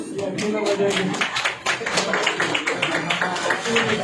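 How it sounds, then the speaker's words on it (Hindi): Young people at a church youth meeting at Trinity Church Nagpur clap together in a quick, continuous patter of hands that runs steadily for a few seconds, with voices mixed in. "और जो नहीं आया समय में उनके लिए दूसरा लोग ताली बजाए"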